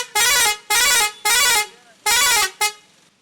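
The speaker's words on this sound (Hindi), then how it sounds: "टीटी हॉर्न बज गया, प्रेशर हॉर्न" A vehicle pressure horn on a Ranchi street blares in four long harmonic blasts and one short final toot, loud and close, with brief gaps between them and no talk.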